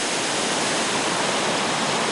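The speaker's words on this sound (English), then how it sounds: "Don't the rushing thunder of the waterfall and its marvelous scenery make your weariness melt away" A rushing waterfall in the Dongyan Mountain forest roars as a dense, steady broadband wash of falling water, loud and unbroken throughout.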